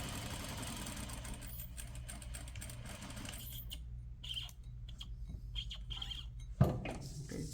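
A sewing machine runs steadily while stitching a set-in sleeve seam at a half-inch allowance, a continuous low mechanical hum that dips partway through, then a brief sharp knock near the end.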